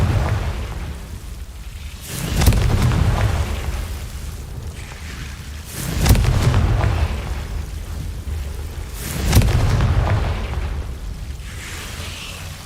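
Confringo blasting spell in Hogwarts Legacy: three heavy booming explosions roughly four seconds apart, each a deep burst rolling off into a long rumble over steady background noise.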